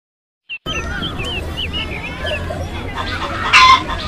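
A hen clucking in a rapid, wavering series of calls, close and clear over a steady background hum, with a louder squawk near the end.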